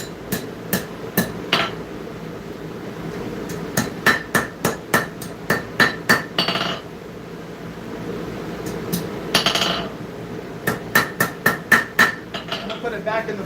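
Hammer blows on hot metal at a forge in a workshop, sharp ringing strikes falling in quick rhythmic bursts with pauses between them, close and loud, with some talking in between.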